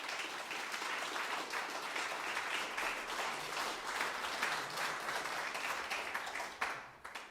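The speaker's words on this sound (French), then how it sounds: "Ouais, on peut les applaudir." A church congregation applauds at a worship service, a steady wash of clapping that fills the room for several seconds before thinning out near the end.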